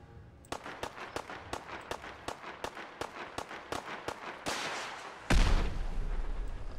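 Rapid full-auto rocket launcher fire from a super mutant in the video game Fallout 4, a steady string of around a dozen sharp booming shots, then a heavier sustained blast at the end.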